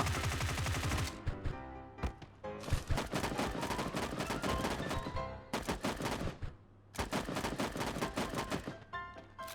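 Gunfire in a close-range shooting game, rapid automatic bursts in loud clusters separated by short pauses for reloading and jumping, near and aggressive, without talk.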